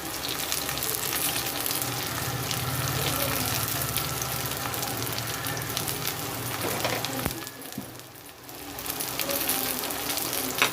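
Potatoes and green chillies split once lengthwise fry in hot oil for coconut milk rice, giving a steady close sizzle throughout that briefly dips before resuming.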